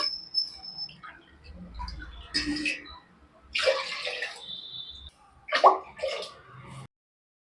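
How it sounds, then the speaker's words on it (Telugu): Water is poured by the glassful into a pot for cooking rice for veg dum biryani. It comes in about four separate short pours with quiet gaps between, near and fairly soft. "ఎసరికి నేను ఒక 5 గ్లాసుల వాటర్ పోసుకుంటున్నాను"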